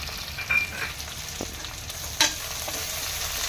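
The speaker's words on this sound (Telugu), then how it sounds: "పచ్చిమిర్చి వేగుతున్నాయి కదా" Green chillies fry in a pan with a steady close sizzle, broken by a couple of brief spattering pops and stirring scrapes; no speech is heard.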